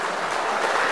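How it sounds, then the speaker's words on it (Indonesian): A seated audience at an Islamic preachers' graduation ceremony claps for a speaker, a brief, dense burst of steady applause with no voices over it. "Boleh kasih tepuk tangan yang meriah untuk beliau."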